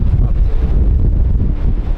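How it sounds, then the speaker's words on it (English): Strong wind in Baja California near Bahía de los Ángeles buffets the microphone in a constant low roar, rising and falling in heavy gusts throughout. "we had wind like this"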